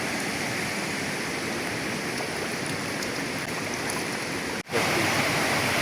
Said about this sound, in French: Donc la cascade est là-bas, tout au fond.